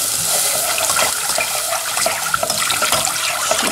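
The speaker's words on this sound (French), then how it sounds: "je vais verser du lait dessus en mélangeant en même temps." Milk poured into a butter and flour roux while it is stirred for béchamel, a steady close liquid rush with small splashes and scraping throughout, no talk.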